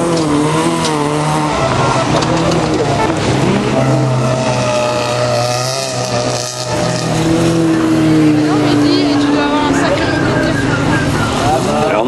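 Rally car engines at a Fol'car event at La Pernelle, with the number 18 car driven by Jordan Lequartier roaring continuously close by, engine pitch rising and falling, while a commentator talks over the noise.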